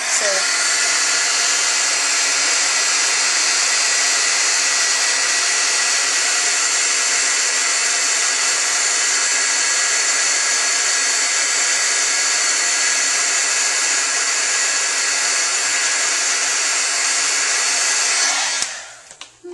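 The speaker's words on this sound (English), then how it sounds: "I'm going to get to listen to my embossing gun one more time" A steady, loud blowing whir of a heat embossing gun runs continuously for the whole stretch, then cuts off abruptly at the end.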